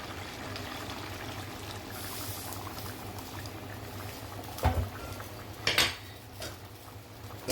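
Fish and gravy go into a simmering cooking pot, with a bubbling liquid backdrop broken by a few sharp clinks of a utensil against the pot near the end, close by and with no talking.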